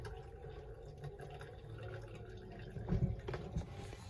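Water drains steadily from the spout of a Colormaq centrifugal spin dryer, a continuous close trickling rush with a slightly louder gurgle near the end.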